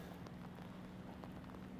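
Steady rain falls outdoors by a lake, a soft continuous hiss of drops on wet surfaces with no voices.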